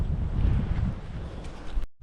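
Blustery wind sweeps across a creek boat ramp at Seisia on Cape York, a steady low rumble of gusts against the microphone before cutting off abruptly near the end.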